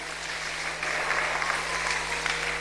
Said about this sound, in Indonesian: Yang setuju berikan tepuk tangan yang meriah.